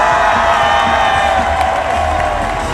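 Stadium crowd at the Paris 2024 Paralympics cheering loudly for a Spanish athlete, a dense sustained roar with whoops and clapping throughout.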